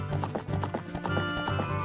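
Epona, a horse in the video game Ocarina of Time, gallops with quick, loud clip-clop hoofbeats in a steady rhythm, and a neigh mixes in with the near, continuous pounding.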